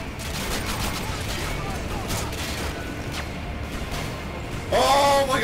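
Gunfire in the Modern Warfare 2 Spec Ops video game, a dense rattle of rapid shots under excited talking from players.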